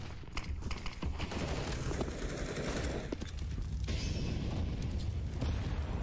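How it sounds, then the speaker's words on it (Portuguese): Counter-Strike gunfire in a Mirage match of an esports league final: bursts of rapid shots and clattering weapon mechanics over a dense, loud game soundscape, with no clear voices. "tiros rolando aqui para a região do Boltz"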